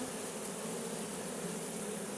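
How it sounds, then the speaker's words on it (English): A freshly caught honeybee swarm buzzing in a hive box with frames, a dense, steady, close-up drone of many wings filling the whole moment without pause. "This is a swarm I just caught, and I put a couple frames in there because there's a lot of bees"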